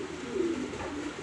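Racing pigeons coo in a loft nest box while being paired for breeding, one close, throaty, sustained coo swelling briefly near the middle, with no talk.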